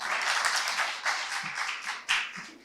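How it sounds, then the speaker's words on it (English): Audience applause for debaters at the end of the last round of a debate day, a dense burst of clapping close by that surges and eases in waves before cutting off. "let's give this debaters a round of applause."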